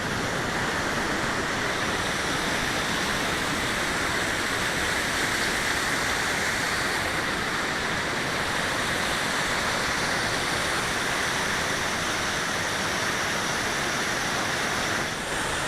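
Wapama Falls in Yosemite roars steadily and loudly nearby, a continuous broadband rush of falling water with no pauses for the whole stretch.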